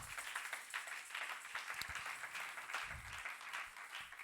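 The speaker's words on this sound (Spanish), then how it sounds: "Dale palmas al Señor." A church congregation claps hands in praise, a steady busy patter of many palms filling the room at moderate level with no voices over it.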